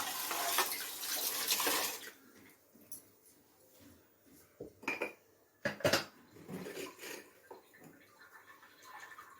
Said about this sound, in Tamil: மிக்சி கழுவி கொஞ்சம் தண்ணி ஊற்றிக்கலாம்